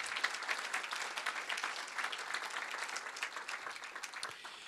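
A lecture audience at a university legacy lecture applauds Dr. Wang, a steady, dense wash of many hands clapping throughout at moderate distance, with no talking over it.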